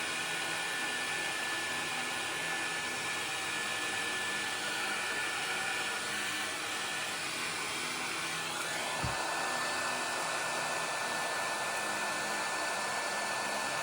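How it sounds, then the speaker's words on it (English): A daughter's household hair dryer blows hot air onto heat shrink tubing around a rebuilt Li-ion battery pack made from old Makita cells, giving a steady, even whoosh with a constant motor whine and a soft bump near the end. "I use my daughter's hairdryer to heat the heat shrink."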